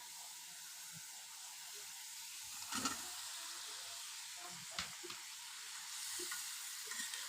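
Okra frying in a pan, a steady close sizzle and hiss with a few scraping stirs of the spatula, no voices.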